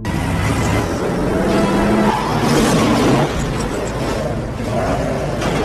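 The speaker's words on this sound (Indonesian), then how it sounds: "Hingga aksi kejar-kejaran mobil pun terjadi." Film car chase with engines roaring and revving amid dense, loud rumbling action noise that stays continuous throughout.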